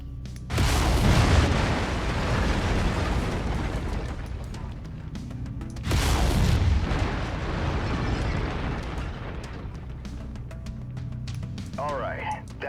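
Mech lasers firing in the Mechwarrior 5 video game: two heavy, booming bursts a few seconds apart, each loud at onset and then decaying into a long rumbling roar.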